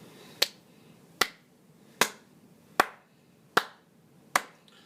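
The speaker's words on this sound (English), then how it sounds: "Why am I clapping?" A sports talk show host claps his hands six times in an even, unhurried rhythm. Each clap is a sharp, close crack that fades quickly into near silence, with no voices.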